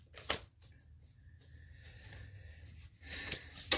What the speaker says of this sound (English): give the cards a quick shuffle